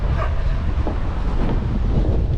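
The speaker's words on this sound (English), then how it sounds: "it's quite windy today" Strong wind buffets the microphone with a constant low rumble and roar, loud and unbroken throughout.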